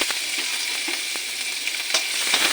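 Onion frying in hot oil on a gas stove, a close, steady sizzle with scattered crackling pops and light stirring scrapes throughout.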